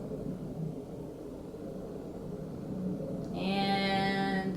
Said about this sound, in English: I'm just waiting for the plane to go by to continue talking because it's kind of loud.